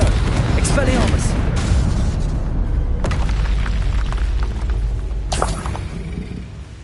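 A spell explosion in Hogwarts Legacy lands as a loud, deep boom with a rumbling tail, followed by further bursts and impacts amid the combat din, with a voice speaking over it.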